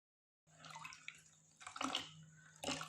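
A sponge mop is dipped into water for home floor cleaning, giving faint, brief sloshing and dripping splashes in two or three soft bursts, with no voices.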